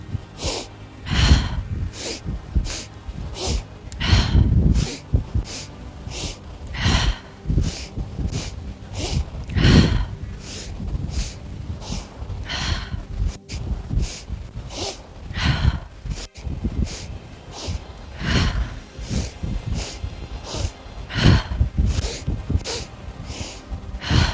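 Deep yoga breathing, with strong rhythmic inhales and exhales repeating at a steady pace, close and loud, each breath a long airy rush.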